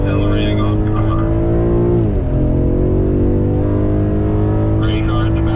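A BMW F90 M5 pulls out of a corner on a track during a driving school, its engine note dipping briefly and then climbing steadily and loudly as it accelerates, with a voice talking over it.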